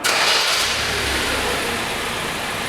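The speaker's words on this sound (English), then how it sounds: "Now we're going to start the car just to make sure that the ignition is working fine" A car engine cranking and catching on the ignition, a brief starter burst that settles into a loud, steady idle rumble, heard up close with no talking.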